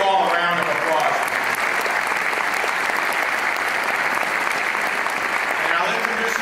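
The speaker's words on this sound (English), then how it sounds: "Please give them all a round of applause." Audience at a Hispanic Heritage event giving a sustained, steady round of applause, dense and fairly loud, with a voice briefly audible at the start.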